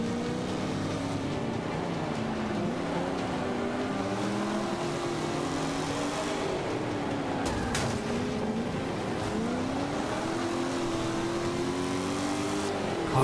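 A Lamborghini in Forza Motorsport 5 revs through shifts, its engine tone sweeping up and down steadily behind a steady racing drone, with no one speaking.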